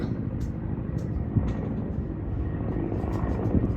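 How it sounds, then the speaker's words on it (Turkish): A firefighting helicopter carrying a water bucket beneath it passes overhead near a village, its steady rotor and engine roar filling the clip at a constant, fairly loud level with no voices. "Yangın helikopteri."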